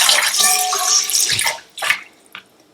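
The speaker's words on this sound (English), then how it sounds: "Continue to add about 6 to 10 cups of water." Water pours briskly into a bowl, splashing and gurgling up close, then tapers into a few short splashes and trickles.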